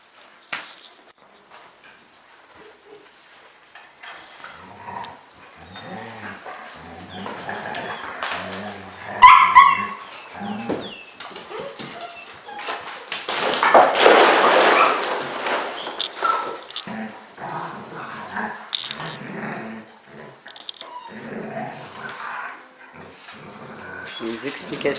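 Adult dogs reunite with one-month-old puppies at a breeding kennel, yipping, whimpering and barking in scattered bursts that build to a lively flurry midway, with people talking intermittently nearby.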